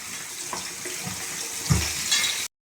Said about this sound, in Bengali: গামলার মধ্যে আমি লাউ ডাঁটাগুলোকে ভালো করে ধুয়ে নিচ্ছি